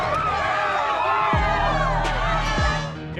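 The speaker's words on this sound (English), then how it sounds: "The crowd is going nuts." A packed arena crowd at the Delta Center in Salt Lake City roars continuously through an NBA Finals Game 6 against the Chicago Bulls, a dense wall of cheering and whistles under a commentator's voice.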